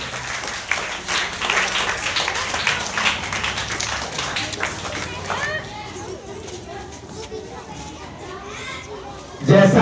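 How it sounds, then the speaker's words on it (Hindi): Children clapping loudly to welcome a team at a primary school Hindi quiz, a burst of rapid applause mixed with excited kid voices and chatter, fading as voices take over near the end. "आप जोरदार तालियों से स्वागत कीजिए टीम रो।"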